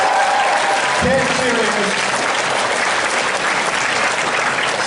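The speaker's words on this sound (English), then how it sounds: "please, a big round of applause for all the contestants who are performing tonight" Audience applause for stand-up comedy contestants at an anime convention comedy show fills the room with loud, continuous clapping, while a voice speaks briefly near the start.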